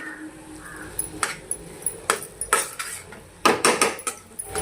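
A spoon scraping and clinking against a metal pan while stirring a thick coconut and cardamom mixture for coconut vadi, a series of sharp irregular scrapes and taps up close.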